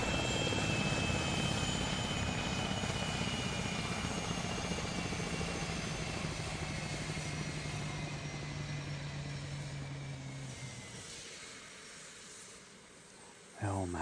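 A helicopter in the modded military game Arma 3, its steady rotor and engine drone holding loud and close before slowly fading over about ten seconds, with a sharp burst near the end.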